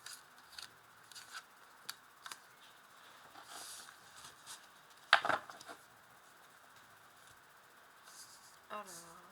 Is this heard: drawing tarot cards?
yes